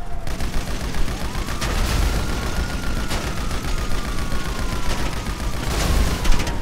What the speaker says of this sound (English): Master, we're being shot.